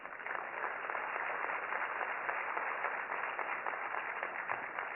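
Audience applause at a panel event, a steady dense wash of many hands clapping that holds for several seconds, muffled and band-limited, with no talk over it.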